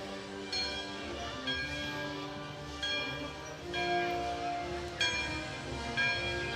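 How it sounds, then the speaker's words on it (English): A bell rings in repeated strokes during an outdoor Veterans Day parade in Birmingham, each tone ringing on over a steady background murmur. "Still ringing the bell."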